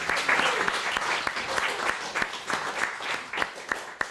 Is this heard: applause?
yes